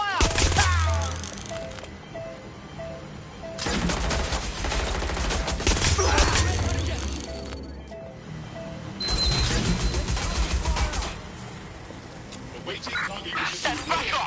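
Video game gunfire in repeated bursts of rapid shots and fusillades, loud and close, separated by quieter gaps, with a voice talking in between.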